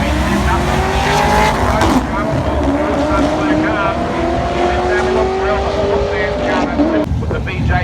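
Street drag racing at a Sunday strip meet, with a Ford launching off the line as engines roar loud and close, revs climbing in long sweeping pulls and a second car alongside, while a commentator talks over the noise.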